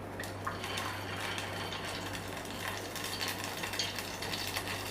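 Ghevar batter fries in hot ghee in a medium pot, a soft, constant bubbling hiss with fine crackle that stays even throughout, fairly quiet beneath a low steady hum.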